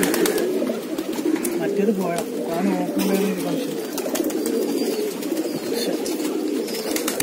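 Racing pigeons coo close by in soft, repeated throaty rolls, while someone talks over them throughout.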